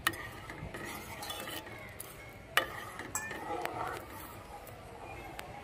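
A spoon stirs gobindobhog rice slowly in a pot for payesh, with faint scraping, soft metal clinks and a few sharper knocks against the rim, all quiet and close.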